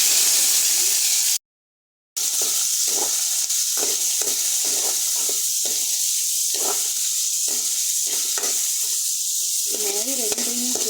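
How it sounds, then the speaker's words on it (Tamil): Onion and tomato sautéing in a pan for Chettinad sundakkai kuzhambu, a constant sizzling hiss broken by a short silence, then repeated scraping stirs of a spoon against the pan, close and clear. "வெங்காயம் தக்காளி ரெண்டையும் போட்டு வதக்கும்போது"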